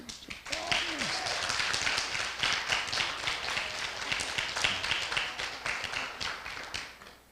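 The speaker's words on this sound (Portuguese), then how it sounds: "Palmas, gente, palmas." An audience at a religious talk on forgiveness and healing claps steadily in a sustained, dense round of many hands, with voices murmuring and calling out beneath the clapping.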